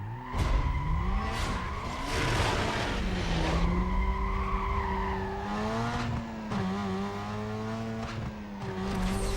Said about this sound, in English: this time we're driving a Mazda RX-8